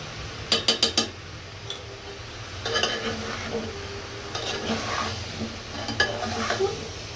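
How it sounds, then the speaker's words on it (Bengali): Bottle gourd and fish cooking together in a pan, with a few quick metal scrapes and clinks of a utensil stirring, then a softer steady sizzle and scattered tapping against the pan, all close by with no talking. "লাউটা কিছুক্ষণ এইভাবে সিদ্ধ করে কষিয়ে নিব"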